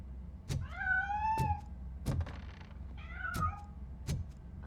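A cat meows repeatedly in the RoboCop Rogue City video game, two drawn-out, rising-and-falling cries with soft thumps and clicks between them, fairly close and clear with no voices over it.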